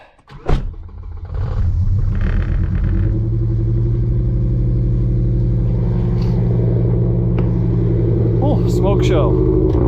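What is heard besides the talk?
BMW E60 M5 engine cranking and running after fuel pump engaged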